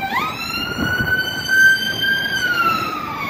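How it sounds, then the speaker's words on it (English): A police car siren wails through rainy city traffic as the vehicle tries to get past. The sweeping tone is loud and steady across the whole stretch, with street noise underneath and no talk. "How many more sirens? What's going on? It's police, not ambulance."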